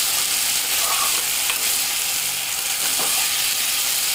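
A mixed vegetable sabji with beetroot fries in a pan, giving a dense, steady sizzling hiss up close with a couple of faint stirring clinks and no talking.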